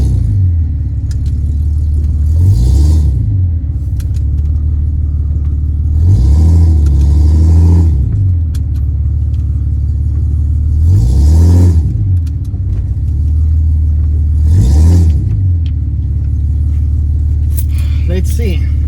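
Engine of a lifted off-road Ford AU Falcon revving hard in four repeated surges during a burnout, each rise and fall of revs separated by a steady low idle rumble, loud and close.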